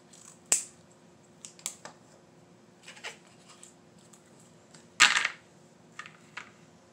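A few sharp snips while trimming material for a Dollar Tree home decor gnome craft, with two louder clicks near the start and end and softer ticks scattered between, close and quiet.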